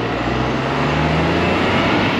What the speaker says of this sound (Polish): słychać tutaj silnik.